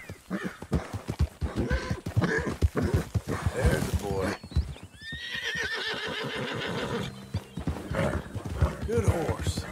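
A horse in the Red Dead Redemption 2 video game whinnies loudly in a long, wavering neigh, with hooves clip-clopping and a voice talking before and after.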